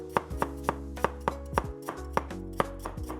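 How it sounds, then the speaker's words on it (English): A knife thinly slices peeled ginger against the grain on a cutting board, producing about a dozen crisp, evenly spaced taps close by, with no talk. "Then I'm gonna thinly slice the ginger against the grain."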